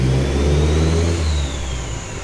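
A tuned 1.8T engine in a VW Golf Mk2, running an ethanol mix on a dyno, revs loud and close with a steady rising drone that eases off near the end.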